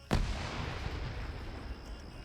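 A single sharp grenade blast in a multiplayer shooter game, one loud close burst followed by a rumbling decaying tail.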